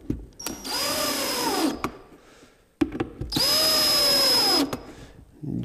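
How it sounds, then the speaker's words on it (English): A power drill drives screws into pre-drilled pilot holes in two sustained whirring bursts of about a second and a half each, close and loud, with a short pause between them. "we'll go ahead and fill the pilot holes with the screws"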